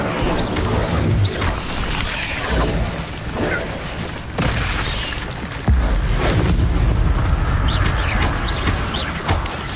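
Fire spell effects and combat casting in the Hogwarts video game, with loud, dense bursts, crashes and booming impacts running continuously throughout, including a heavy hit near the middle.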